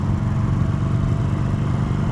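Loud, steady engine rumble of a 2020 Harley-Davidson Sportster Iron 883 motorcycle with a low throbbing beat, heard up close while riding, no talking.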